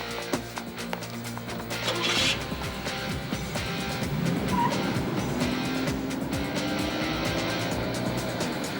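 A car speeds away close by, its engine rising to a loud rumble with a rising whine and tire noise, the sound staying near and steady rather than fading.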